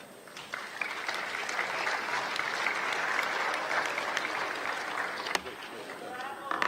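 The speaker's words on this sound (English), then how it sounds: "If there is no opposition, we may elect them by" Audience applause fills an assembly hall during a governing council session of the 145th IPU Assembly in Kigali, Rwanda, a steady dense clapping sustained throughout at moderate distance, with faint voices mixed in near the end.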